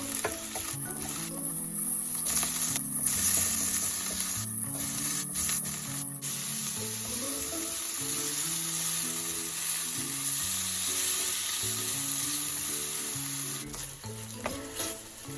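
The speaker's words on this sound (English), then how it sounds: "we are stirring them with a high heat, but only for a minute" Beef and broccoli stir-frying over high heat with garlic, a loud continuous close sizzle broken by scraping and tossing of the spatula in the pan throughout.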